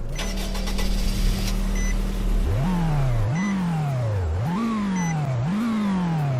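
Pickup truck in Roblox Greenville, its engine idling steadily and then revving repeatedly through rising gear sweeps, four climbing surges in a row, loud and close with no talking.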